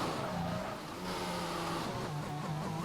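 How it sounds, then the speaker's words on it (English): Race car engine in a sim racing game at Bahrain, revving hard on a corner exit after a short shift into third, a loud continuous engine drone with rising and falling pitch throughout. "Short shift into third. Planting the revs on the exit."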